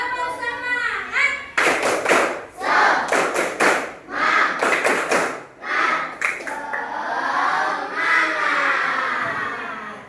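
A classroom group performs the rhythmic 'tepuk semangat' spirit clap, loud bursts of quick patterned claps in tight groups separated by brief pauses, with children's voices chanting between the clap sets.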